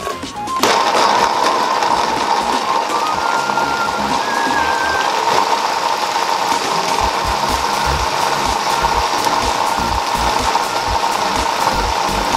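Guajillo chiles whirring in a blender with their steeping liquid, a loud continuous motorized roar that starts abruptly and holds steady with a gritty, rattling churn throughout.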